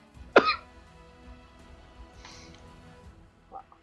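A single sharp cough near the start, followed by quiet room noise and a few faint, brief sounds.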